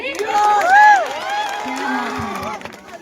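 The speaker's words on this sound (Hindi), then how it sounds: "एक बार जोरदार ताली बजाइए ना जी।" An audience at a stage show cheers and applauds, with whoops and voices rising over the clapping. The noise holds for a few seconds and then thins out.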